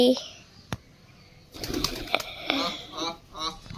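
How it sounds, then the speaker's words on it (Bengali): Pigeons coo and flutter close by while a person talks over them, with brief wing flaps and scattered bird calls. "এই দেখো পাখি এখন খাচ্ছে।"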